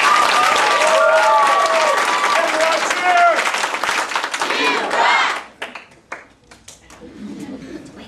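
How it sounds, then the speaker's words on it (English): Loud, sustained applause and clapping from a crowd at a martial arts belt ceremony for Black Belt Club selection, with cheering voices over it, stopping sharply after about five seconds into scattered claps and quiet. "Give him a big round of applause."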